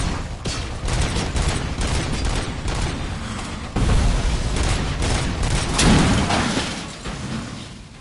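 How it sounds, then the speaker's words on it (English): Heavy, sustained gunfire in Robocop: Rogue City, dense rattling bursts and booming impacts layered loudly over one another with barely a pause. "It's a lot of heavy fire."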